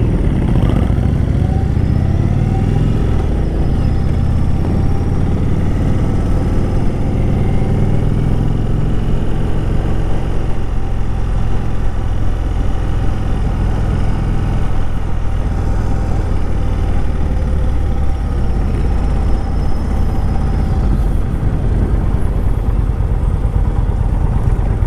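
A 2018 Indian Chief Dark Horse motorcycle's big engine drones in a continuous, loud, low rumble while riding, steady throughout with no talk over it.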